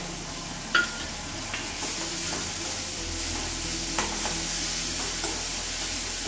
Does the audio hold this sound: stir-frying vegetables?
yes